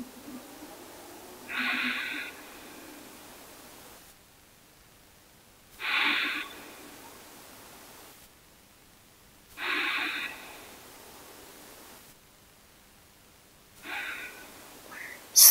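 Sitkari pranayama yoga breathing: four long hissing inhalations drawn through the teeth, evenly spaced about every four seconds, close and fairly soft, with near-silent pauses between them.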